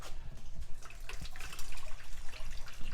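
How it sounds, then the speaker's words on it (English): Water from an Instant Pot inner pot draining into a kitchen sink after cooking bacon-wrapped cabbage: a continuous splashing, trickling pour with scattered drips, close by and fairly quiet, with no talking. "take it out to the sink, drain whatever water we have in here"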